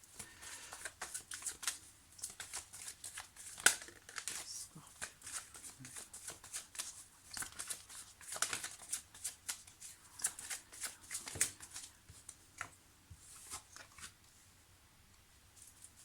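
Tarot cards being shuffled by hand, soft rapid riffling and slapping of cards, close and quiet, repeating in bursts for many seconds with faint handling noises.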